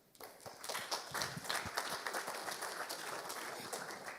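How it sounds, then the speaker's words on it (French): An audience at a conference talk applauds as a speaker is welcomed onstage, a dense run of many hands clapping that swells quickly and holds steady throughout, heard from within the room at moderate loudness. "je vous demande d'accueillir et d'applaudir Kim Benour"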